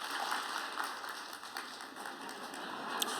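An audience at a university lecture event applauds to welcome a speaker, a dense, even patter of many hands clapping at moderate distance, sustained throughout.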